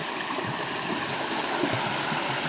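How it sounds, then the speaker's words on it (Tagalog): A creek flows swiftly, giving a steady, close, continuous rush and babble of water with no pauses. "Dire-diretso po ang tubig."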